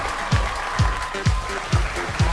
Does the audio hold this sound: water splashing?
no